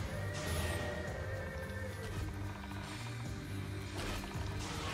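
A horse neighs during a video game siege battle, a shrill whinny rising over dense battle clatter, rumbling mechanisms and clip-clop hoofbeats, fairly faint within a busy mix.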